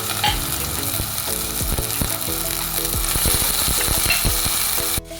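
Potatoes and green chillies frying in oil for sabudana khichdi, a loud steady sizzle with repeated scraping stirs of a spatula against the pan, ending abruptly.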